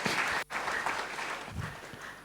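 A church congregation at an online worship service claps loudly and densely. A sharp brief dropout interrupts the applause, and it then fades slightly toward the end.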